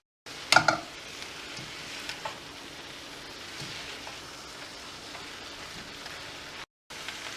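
Peri-peri vegetable stir fry sizzling steadily in a pan as it is stirred, a soft crackling hiss with a few sharper scrapes near the start and a brief drop out near the end.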